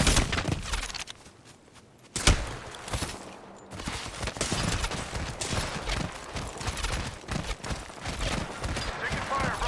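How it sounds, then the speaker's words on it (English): Gunfire in an online battle royale shooter, with dense rapid shots and impacts running almost continuously after a brief lull, mixed with game effects and a player's voice talking over it. "Getting shot at."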